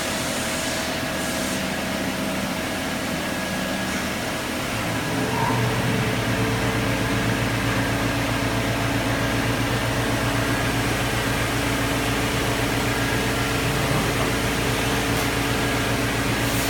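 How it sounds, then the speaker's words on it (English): An air compressor runs in the background of a CNC lathe shop with a Doosan Puma 240MB turning center, giving a steady, even hum that grows slightly fuller after about six seconds and continues unbroken with no talking. "We do have background noise for a compressor that we have on."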